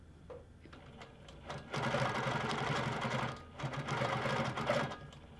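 Handi Quilter Amara ST longarm quilting machine stitching on a lift table, a steady close mechanical whir that starts, briefly slows and resumes, running alone without talk.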